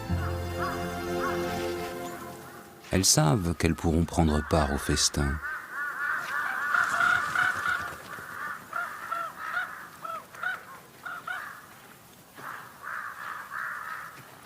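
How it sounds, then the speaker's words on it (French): Harsh crow caws and blue magpie calls repeat overhead, birds flying above a tiger and its kill, heard under a narrator's voice, with a burst of clattering noise partway through. "Les pies bleues et les corneilles volent au-dessus du tigre et de son trophée"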